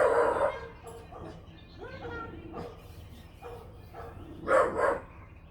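Dogs barking outdoors amid people walking past, with a few short yips and barks in bursts, including a louder pair near the end, set against steady background murmur and some talking.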